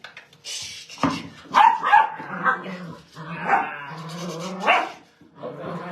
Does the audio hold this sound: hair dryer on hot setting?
no